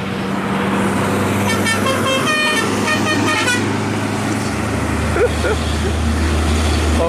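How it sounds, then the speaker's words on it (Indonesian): Hino dump truck carrying rock passing on a road while playing a telolet horn, a short run of bright musical toots over a loud diesel engine drone, close by. "Ada telolet nggak? Kita minta ya."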